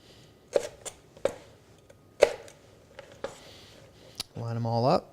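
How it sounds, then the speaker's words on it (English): A knife slices pepper strips into finer strips on a cutting board, making several crisp, separate chops at uneven intervals. A short tonal squeak or whistle closes it out. "cut them in a bit finer strip"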